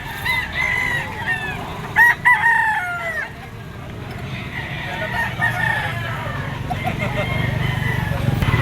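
A red Kelso yellow-legged gamecock crows near and loud several times in sharp, rising calls, with other roosters clucking and crowing around it at a poultry yard and someone talking over the birds.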